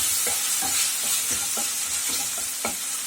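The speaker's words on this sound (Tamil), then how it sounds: "இந்த வெங்காயம் தக்காளி வதங்கிறதுக்கு கொஞ்சமாக சால்ட்டு சேர்த்துருக்கேன்" Onions and tomatoes sautéing with a little salt in a pan, a steady sizzle broken by regular scraping strokes of a spatula about every third of a second, close and clear with no voices.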